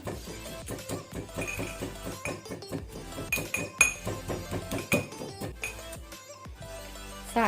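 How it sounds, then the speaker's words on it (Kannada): Ginger, garlic, curry leaves and cumin seeds are pounded in a mortar, a steady run of sharp knocking strikes at a brisk rhythm, close and fairly quiet. "ಇದನ್ನು ನಾವೀಗ ಇಷ್ಟು ಇಂಗ್ರೀಡಿಯೆಂಟ್ಸ್ ಅನ್ನು ಕ್ರಷ್ ಮಾಡುವ."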